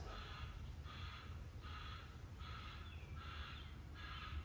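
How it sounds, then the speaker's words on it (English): A bird gives a series of about six hoarse, rasping calls at a steady rhythm, over constant low background rumble. "coughing bird"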